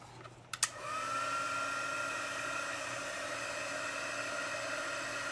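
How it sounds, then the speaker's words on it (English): A heat embossing tool roars into life after a couple of clicks and keeps up a steady, loud blowing whir with a rising whine, running unbroken to the end. "let's get our heat tool. Now, plug your ears or something for just a second because it's going to be kind of loud while I do the embossing"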